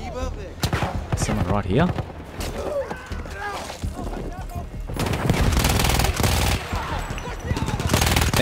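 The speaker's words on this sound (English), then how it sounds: "That's a machine gunner." Rapid bursts of automatic machine gun fire and scattered gunshots in the Battlefield 1 video game, loud and dense, with explosive cracks building toward the end while someone talks briefly over the din.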